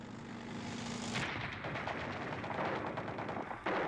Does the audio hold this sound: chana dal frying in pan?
no